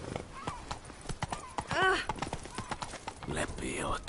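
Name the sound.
horse hooves galloping in The Witcher video game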